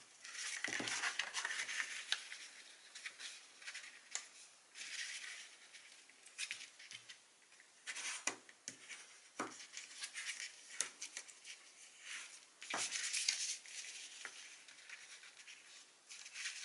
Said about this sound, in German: Am besten einfach das Falzbeil nehmen und mal alle Falzlinien